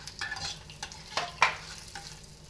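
A quiet sizzle in a pan as peanuts and sesame seeds fry, broken by a few brief stirring scrapes and light clicks, close and faint.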